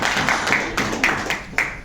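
An audience clapping in a hall at a talk, a short burst of scattered hand claps with uneven rhythm, moderately close and fairly loud, with no talk over it.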